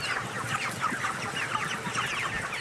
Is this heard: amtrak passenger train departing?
no